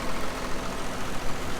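A tractor engine idles on a farm during manure spreading, giving a steady, loud, broadband rumble with no distinct rhythm and no voices.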